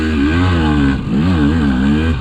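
Up close, a KTM 200XC two-stroke dirt bike engine revs hard in two rising surges with a brief dip between them, loud and buzzy with no talking.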